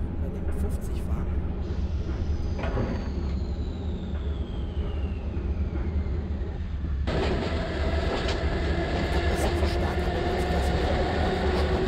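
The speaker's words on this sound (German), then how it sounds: "Wie gesagt, wir fahren halt eben jetzt da schön brav entspannt hindurch durch den Hauptbahnhof, unserem Züglein." Simulated S-Bahn Berlin BR 277 electric train in Microsoft Train Simulator, running slowly through a main station: steady low rumble and rail noise throughout, with a falling whine partway and brighter rolling clatter later.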